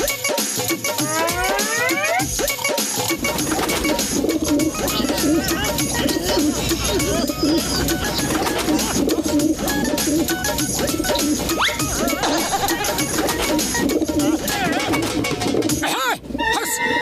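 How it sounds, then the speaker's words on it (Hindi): Cartoon pigeons coo and chatter in a busy animated scene, with repeated bird calls and sound effects layered over music and voices that talk throughout. "कबूतरों ने तो जीना मुश्किल कर दिया है"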